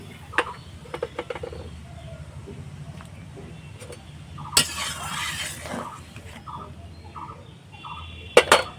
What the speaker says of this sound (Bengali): আমি এবার এই যে পুঁটি মাছগুলো দিয়ে দিচ্ছি